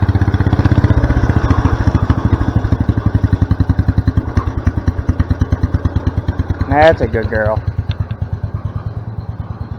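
An old Kohler engine on a 110/112 garden tractor idles down with a loud, rhythmic putter that slows and thins out over time, while someone speaks briefly near the end.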